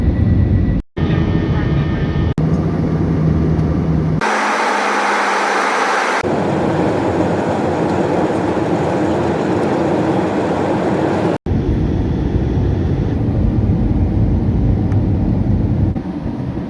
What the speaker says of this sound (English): welcome aboard Jet Airways Flight number 1196 service